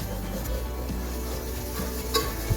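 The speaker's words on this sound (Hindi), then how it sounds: "जब तक ये ब्राउन ना हो जाए उस वक्त तक हमने इसको हिलाते रहना है।" Dry semolina roasting in a pan while being stirred until brown gives a steady soft sizzle and scraping rustle, with a couple of light utensil knocks near the end.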